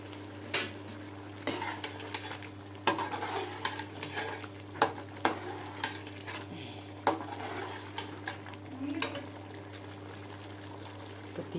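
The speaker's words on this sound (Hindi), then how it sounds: "पतीला हिल रहा है" A cooking pot of chicken pulao rattling and knocking on a wobbly stove, with irregular clanks and scrapes over a steady low burner hum, fairly close and without speech.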